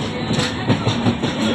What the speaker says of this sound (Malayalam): അവസാനം കുറച്ച് മിനിറ്റ് കഴിഞ്ഞപ്പോൾ തന്നെ ഞങ്ങളുടെ ട്രെയിൻ എത്തി